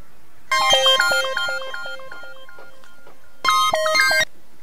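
A mobile phone ringtone plays while a call is placed in a Nepali comedy scene, with a loud melodic tone pattern, a pause, then a second burst.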